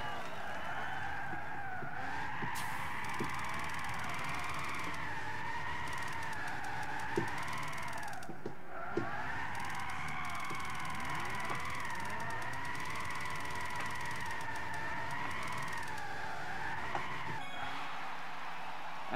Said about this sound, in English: We never drifted this track or this car ever before,